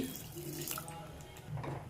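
Water pours into a cooking pot of palak pappu with a short, steady splashing gush, close and moderately quiet.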